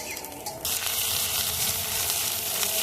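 A fish head frying with ginger paste in a hot pan, a loud, steady sizzle that swells suddenly after a short quieter start and then holds a dense crackling hiss, close by with no voices.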